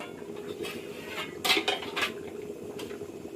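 Metal lid clattering onto a pot of hilsa fish curry with potato and aubergine, a few sharp clinks and knocks close by, no talk.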